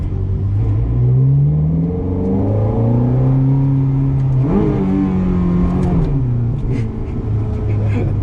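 A 2007 Ferrari F430 engine revs and accelerates up close under light throttle, its pitch climbing and dropping through gear changes, with a deep rumble throughout.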